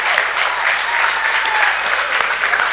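An audience at an inter-school debate gives steady, full applause for the student debaters, a continuous wash of clapping from a seated crowd.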